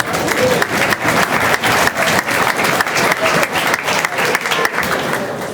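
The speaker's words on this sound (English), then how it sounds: "Give that a round of applause" A banquet audience at a marching band awards dinner breaks into sustained, dense applause, many hands clapping steadily and loudly with no voices over it.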